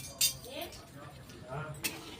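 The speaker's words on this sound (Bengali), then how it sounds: "খুন্তি নেড়ে নেড়ে চিনিটা গলিয়ে নেব।" A metal spatula scrapes and clinks against a pan as sugar syrup with cardamom is stirred, giving a few sharp taps among soft scraping, quiet and close, with a voice talking over it.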